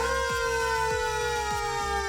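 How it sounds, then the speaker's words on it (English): Fire truck and ambulance sirens wail steadily at a race track after a rollover crash, loud and continuous with a rhythmic low pulsing underneath and no talk. "The fire truck and ambulance are tending to KC"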